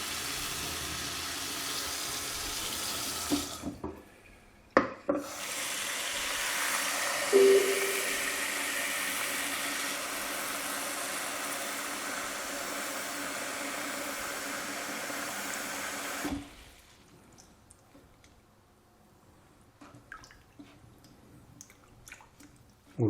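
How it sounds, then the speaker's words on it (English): Cold tap water runs steadily over cooked sweet potatoes in a big pot in a kitchen sink, a loud broadband rush with splashing, stopping abruptly and leaving a quiet room with faint clinks. "By just like putting them under the cold water."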